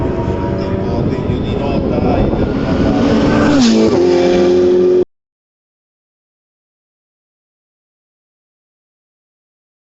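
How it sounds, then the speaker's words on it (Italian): A Ferrari 488 Pista Piloti race car at the Ferrari World Finals, engine roaring loud and close with a rising rev before the sound cuts off abruptly into silence. "Ecco la 488 pista piloti, bellissima."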